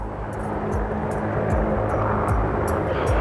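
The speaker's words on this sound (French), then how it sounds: "un hélicoptère" A helicopter over a forest at night, a loud steady engine roar with a regular rotor beat pulsing through it, close and continuous.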